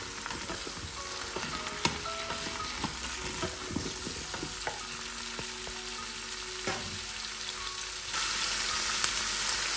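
Vegetables stir-fry in a pan for soup, with a steady close sizzle broken by scraping, clattering stirring strokes, no voices.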